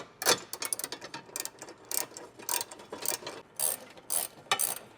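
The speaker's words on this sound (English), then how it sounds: "So we have a 3/8 ratchet, we have a long extension, we have a swivel, and we have a 13mm socket." A 3/8-inch ratchet with a long extension, swivel and 13mm socket snugs bolts down while mounting a switch panel in a 2016-2023 Toyota Tacoma, giving close, steady bursts of rapid clicking with brief pauses between strokes and no talk.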